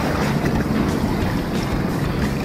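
Strong ocean waves off Colibra Island in Dasol, a continuous roaring wash of surf with heavy wind buffeting the microphone, loud and steady without any voices.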